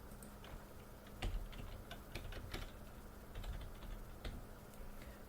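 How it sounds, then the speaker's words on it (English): Computer keyboard typing while entering a client's name letters and social security digits into a records system, heard as a sparse run of clicky keystrokes, some grouped quickly, over a low steady room hum with no talk. "you'll enter the first 3 letters of the client's last name and the last 4 digits of their social"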